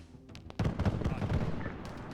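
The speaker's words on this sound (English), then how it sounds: "All of a sudden, gunfire." Gunfire in a military video game op, a burst of rapid shots with a heavy low rumble, somewhat distant and muffled under a voice talking.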